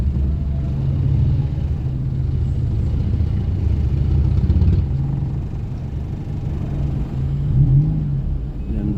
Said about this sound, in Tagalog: So lahat binaraduhan itong napakaagang traffic na to.